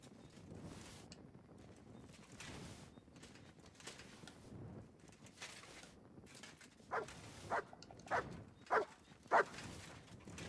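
In Kingdom Come Deliverance 2, a dog barks in a quick series of five or six sharp, fairly close barks over a windy, faintly rustling outdoor background.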